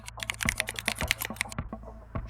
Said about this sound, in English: quickly typing it into the box